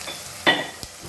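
Onions sauté in a pan over a faint background hiss, with one louder scrape or stir and a brief clink soon after, close and without speech.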